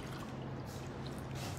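About one and a half cups of water poured into a pan with sugar for syrup, a steady close splashing trickle that runs throughout.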